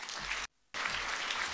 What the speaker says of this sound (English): a great round of applause for Mr. Devalia.